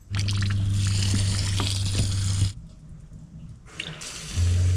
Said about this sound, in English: And now try seeing if the hot water output is pressurized.